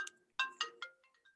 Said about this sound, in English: Put up with the ringing, and it'll go away eventually.